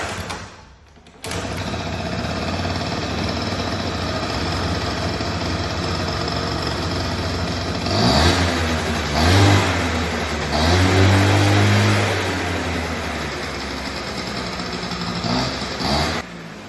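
After a carburetor cleaning, a restored pit bike engine starts with a sudden burst and settles into a steady, buzzy idle, then rises and falls through several loud revs near the end.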